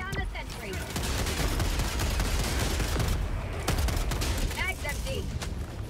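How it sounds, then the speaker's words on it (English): Dense, continuous automatic fire from a sentry gun in the video game Helldivers 2, loud and close, with chaotic battle noise and whistling tones layered in. "I love the sentry gun. Covers my ass so much."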